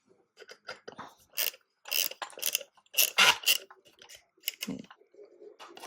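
Plastic parts of a Knitpicks yarn winder being inserted and twisted together, giving a close series of small clicks, creaks and crunchy snaps in irregular clusters.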